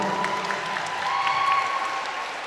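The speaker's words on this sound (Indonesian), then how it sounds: "Tepuk tangan buat saya." Crowd applause at a closing ceremony of an English drama competition, a continuous wash of clapping at moderate level with a faint tonal hum running beneath it.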